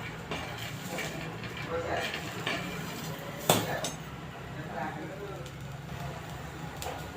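Garlic and peanuts are roasted in a pan for a green chilli thecha, giving a continuous dry rustle and scrape of pan and utensil with one sharp clank near the middle, close and steady.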